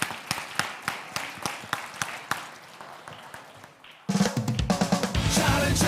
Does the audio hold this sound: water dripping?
no